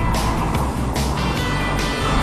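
A car on Nokian WR G2 winter tires corners through a curve during a lateral grip test, giving a loud steady road and engine roar with rhythmic swells of tire noise, recorded close up.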